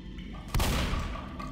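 One sharp, booming shotgun blast rings out in Left 4 Dead's No Mercy sewers, followed by a short rumbling decay over a low background.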